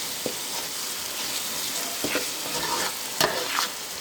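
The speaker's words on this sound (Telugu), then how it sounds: "ఆయిల్లో ఫ్రై అవ్వాలి మసాలా" Ginger, garlic and onion masala paste fries in hot oil for a fish curry, a steady close sizzle broken by a few scraping stirs of the spoon through the pan.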